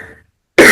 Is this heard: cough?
yes